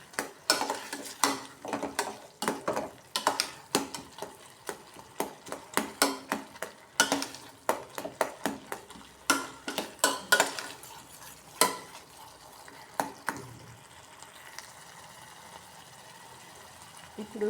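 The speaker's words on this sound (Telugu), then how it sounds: "దీన్ని మామూలుగా గరిటెతోటి ఇలా కలిపితే మెల్ట్ అయిపోద్ది అనమాట." A ladle stirs tomato rasam in a metal pot, giving repeated scraping and clinking strokes at a steady rhythm, close and moderately loud, before fading to a quieter simmering hiss near the end.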